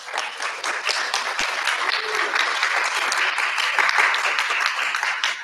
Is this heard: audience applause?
yes